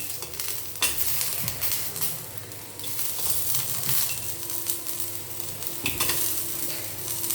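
Coconut pieces fry in a hot pan with a constant crackling sizzle, broken by scraping stirs as the slices are turned, close and steady with no talk.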